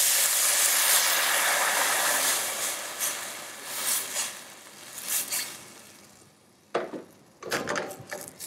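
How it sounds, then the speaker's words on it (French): Red wine poured into a hot pan holding a browned squab carcass with carrots, bacon and shallots, giving a loud steady sizzling hiss that fades, followed by a few sharp clanks and scrapes near the end. "je vais mouiller avec du vin rouge"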